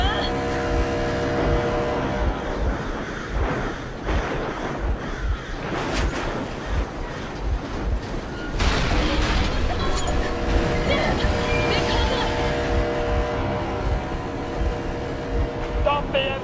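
Boat engine in Metro Exodus running as a steady droning hum, with music and a loudspeaker-style voice talking over it throughout.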